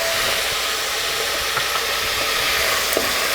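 Butter melting in a hot soup pot with pearl onions gives a steady, close sizzle, a broadband hiss with a few faint pops, alone with no talking.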